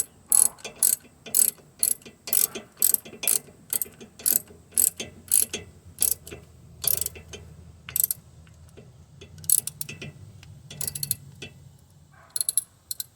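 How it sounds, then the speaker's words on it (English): Ratchet cranking a bolt on the differential cover of a Jeep TJ/XJ with a Dana axle, heard as repeated bursts of sharp metallic clicking in quick strokes with short pauses, close and fairly loud, no talking. "Get our normal ratchet again. Put her on there and tighten away."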